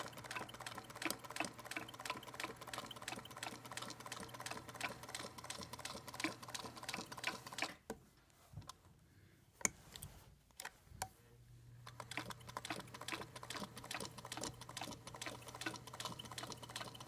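A sewing machine stitches along the edge of pattern shapes with a quick, steady mechanical whir and ticking needle, stopping briefly in the middle for a few soft clicks before running again.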